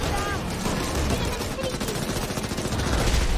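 Rapid, loud bursts of gunfire ring out during an online multiplayer video game, dense and continuous, with excited players' voices mixed in.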